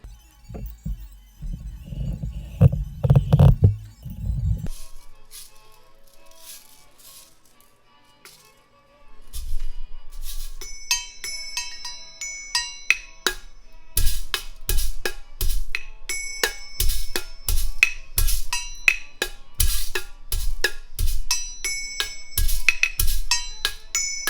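Small metal jingle bells clink and rattle as they are fitted onto a homemade Stumpf fiddle, with a busy run of close, bright metallic jingles and taps after an earlier stretch of low handling thumps and a quiet pause.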